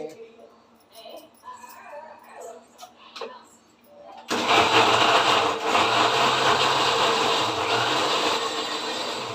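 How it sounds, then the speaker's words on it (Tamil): Electric mixer grinder pureeing tomatoes into a fine paste for chicken masala gravy, starting abruptly after quiet kitchen sounds and running as a loud, steady whirring grind through the rest. "இந்த தக்காளி போட்டு இப்போ நம்ம அரைச்சிக்கலாம்"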